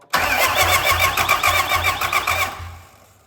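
A diesel engine just back together after a head gasket replacement cranks with a fast rhythmic churning, catches and runs loud and rough for a few seconds, then fades away.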